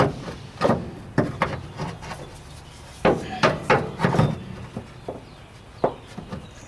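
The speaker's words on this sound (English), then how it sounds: "see if I can hit it with this hammer." A series of sharp hammer blows on the metal front fender of a 1968 AMC AMX, some in quick clusters, knock at close range with pauses between, sounding dull rather than ringing.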